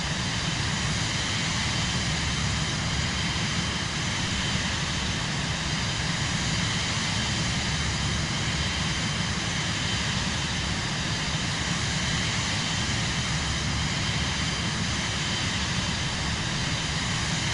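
Small propeller aircraft engine in Microsoft Flight Simulator 2024 on PS5 gives a steady, unbroken droning hum at constant loudness throughout, with no voices over it.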